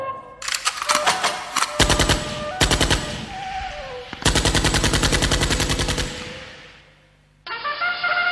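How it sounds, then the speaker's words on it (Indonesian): Gunfire sound effect in a musical drama, loud rapid machine-gun bursts in several long volleys separated by short gaps, followed by a ringing tonal sting. "tiba-tiba terdengar suara tembakan tanda marah bahaya datang."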